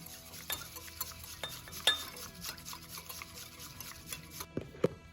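A spoon stirs almond milk into chia seed pudding in a bowl, a soft steady run of scraping and clinking taps with a couple of sharper knocks near the end.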